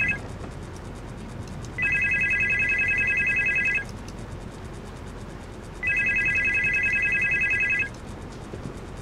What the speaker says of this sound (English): Is that the phone I'm supposed to pick up?